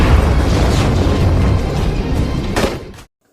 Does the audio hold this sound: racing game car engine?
no